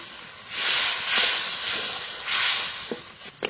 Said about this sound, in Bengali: এবার একটু জল দিয়ে মশলা খুব ভালো করে কষিয়ে নেব।